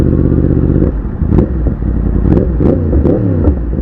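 A 2020 Yamaha MT-10 crossplane motorcycle engine revs up close and loud, its deep throbbing note rising and falling in several short bursts with some mechanical clatter.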